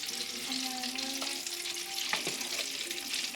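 Chana dal boorelu fry in hot, bubbling oil, a soft continuous sizzle with a few faint clinks and tonal scrapes as they are lifted out.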